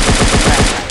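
Rapid automatic gunfire from a free offline mobile shooting game, a loud, close burst of evenly spaced shots lasting about a second.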